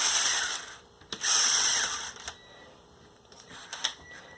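Plastic clicks and ratcheting clatter as the gearbox of a Lego Technic 1995 Ford F-150 model is shifted into first gear, a few sharp close snaps among light mechanical rattling.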